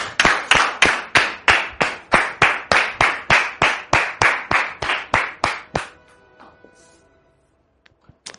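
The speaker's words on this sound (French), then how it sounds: "Merci de le recevoir sous vos applaudissements" A studio audience on a talk show claps in unison, with about twenty loud, evenly spaced claps that stop abruptly, followed by faint scattered noises.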